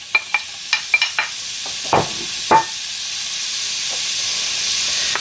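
Chopped onion drops into hot oil in a frying pan with a few sharp clicks and spatters, then settles into a steady, rising hiss of sizzling.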